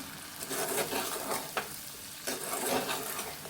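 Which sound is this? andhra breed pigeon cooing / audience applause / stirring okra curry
stirring okra curry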